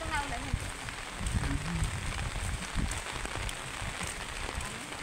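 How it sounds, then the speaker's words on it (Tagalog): Steady rain falls close by as a dense, even hiss and patter that holds at the same level from start to finish, with faint voices underneath. "Eh, pag ganito na ulan."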